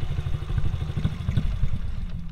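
A small motorcycle ridden by a child engine running close by, a steady chugging putter with slight rises and dips in revs, heard alone without talk.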